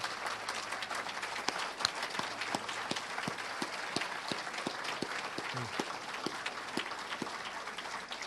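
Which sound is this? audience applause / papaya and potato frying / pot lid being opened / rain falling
audience applause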